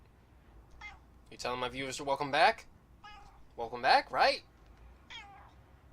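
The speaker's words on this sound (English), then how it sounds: "If you hear that, that is my cat." A cat meows several times in close succession, loud and near, while a person talks over it during Mass Effect Andromeda gameplay.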